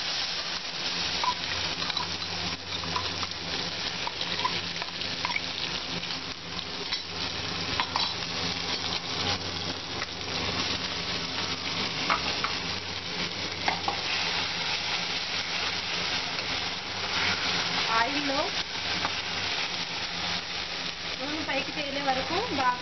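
In an Andhra-style kitchen, a tempering with curry leaves sizzles and gongura chutney fries in it while being stirred, a continuous close sizzle with occasional scraping and utensil clinks.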